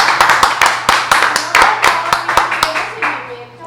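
A studio audience claps in a lively, even rhythm to welcome a guest onto a reading-themed talk show, loud and close, with a voice briefly audible beneath the applause.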